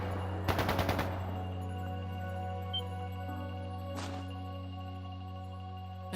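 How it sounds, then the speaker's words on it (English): A burst of rapid gunfire in a video game, a quick volley of about five shots followed later by a single fainter crack, over a steady low hum of game background sound. "That didn't sound good. That sounded like gunfire."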